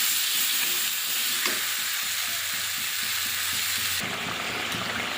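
Katla fish kalia with coriander leaves and fried fish pieces being stirred in a pan, a steady dense sizzle with rhythmic scraping strokes running through it, close and fairly loud, with no talking.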